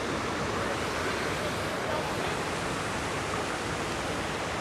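Water rushes steadily by a memorial on the National Mall in Washington, DC, a dense, even wash of noise that holds constant throughout with no breaks.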